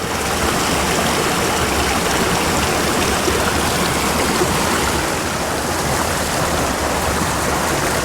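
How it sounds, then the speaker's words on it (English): Creek water rushes steadily over and around boulders, a loud, continuous broadband wash with no break across the whole stretch and no voices. "This is a really cool creek."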